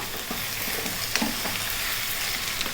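Boneless lamb with very little fat sizzles steadily as it fries with onions for a lamb curry, a constant close hiss broken by light stirring scrapes.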